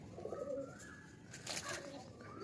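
Tournament racing pigeons at a loft in Sankrail, Howrah coo in a steady, overlapping murmur close by, with a brief burst of brighter noise partway through.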